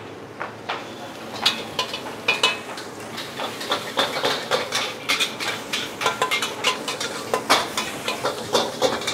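Nasi goreng kampung is stirred and fried in a pan, with a metal utensil scraping and clattering repeatedly against the cookware over a constant background sizzle, irregular clanks at close range.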